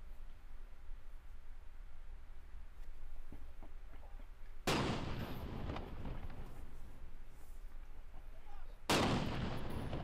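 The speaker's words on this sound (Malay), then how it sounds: "Sebanyak 12 das tembakan meriam dilepaskan petang tadi bagi menandakan bermulanya umat Islam menunaikan ibadah puasa" Two loud, booming blasts from a ceremonial cannon salute in a park, roughly four seconds apart, each a sharp broadband crack followed by a rumbling decay, over a quiet outdoor background.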